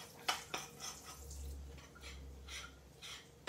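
Water running from a faucet into a bowl of no-bake protein brownie mix, added a little at a time: soft splashes and drips with a few sharper close spatters over a low background hum.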